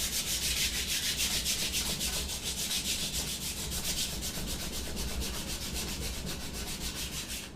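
Steady back-and-forth sanding strokes rub the old finish off a wooden gun stock, a continuous close scraping hiss with a rhythmic pulse and no voices.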